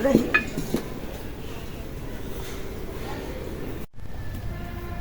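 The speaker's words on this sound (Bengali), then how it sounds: "কড়াইটা তাওয়াটা নামিয়ে ফেলি এখন ইলিশ রান্না করার জন্য কড়াই বসাই দিই" A wok and a griddle pan are lifted off a home stove and set back down, giving a few brief metallic clanks and clinks at the start. A low kitchen hum continues underneath, and voices talk nearby.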